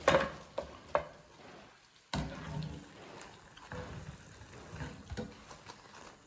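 Banana fritters (pazham pakkavada) are lifted out of hot oil with a scooping spoon, giving soft, faint sizzling under a few sharp metal clinks and scraping sounds close by.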